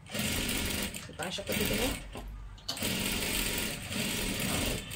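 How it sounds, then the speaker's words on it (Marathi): A sewing machine runs in rapid continuous bursts, stitching close along the edge of a dress neckline, with short pauses between runs while someone talks over it. "एकदम कडेकडेला आपल्याला शिलाई मारत मारत घ्यायचं आहे"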